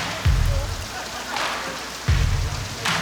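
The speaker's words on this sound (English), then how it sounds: "It's definitely already raining." Steady rain falls on surfaces in Houston, Texas, a constant close hiss with low thumps and brief louder gusts recurring throughout.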